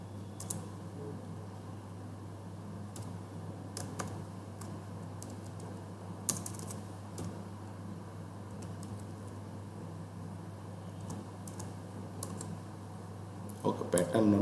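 Keystrokes on a computer keyboard while a terminal pattern search is typed, scattered light clicks in short bursts under a steady low hum, with a denser flurry near the end; someone talks over parts of it.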